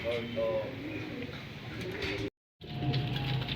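Racing pigeons coo near the loft as they return, soft repeated cooing over ambient noise with a short gap of silence midway.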